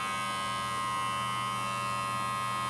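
A Braun cruZer 6 beard trimmer hums steadily and close by, a fairly quiet electric buzz with an even, unbroken tone and no voices.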